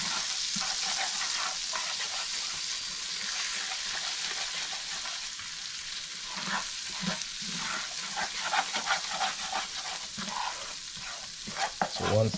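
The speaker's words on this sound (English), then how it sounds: "Now this is going to go for a little. Want this to cook." Coriander powder cooking in a hot pan makes a dense, continuous hiss of frying, with soft stirring scrapes growing busier toward the end; nobody talks.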